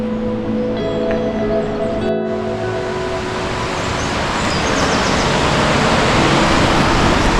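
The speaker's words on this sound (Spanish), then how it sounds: "Todo este agua a una gran cascada debajo del puente" Broadband rushing water of a river pouring through the Tajo de Ronda gorge below the bridge toward a large waterfall in Ronda, a steady loud roar growing slightly stronger, with a brief faint tonal sound fading early on.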